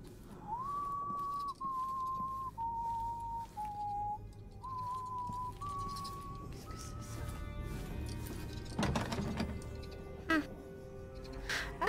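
Game birds in Dishonored: Death of the Outsider whistle a chain of short held notes that step down and then climb again, followed near the end by some clattering sounds over a rumbling ambience.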